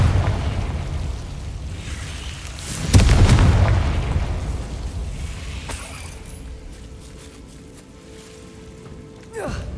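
A spell blast in the Hogwarts Legacy video game lands as a sudden booming explosion about three seconds in, followed by a rumbling decay and crackling debris, with a softer burst near the end.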